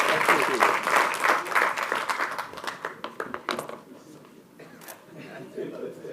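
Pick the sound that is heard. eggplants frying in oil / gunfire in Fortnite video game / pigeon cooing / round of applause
round of applause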